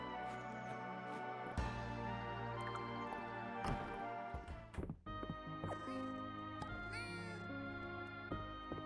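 A cat meows several times in the Fields of Mistria video game, its short calls mixed into continuous background game music with chimes and soft clicks.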